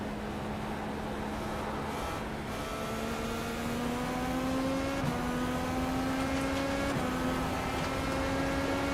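A steady, loud IndyCar engine drone in the iRacing sim at World Wide Technology Raceway, pitch climbing through gears with several upshifts over nearly nine seconds, no voices.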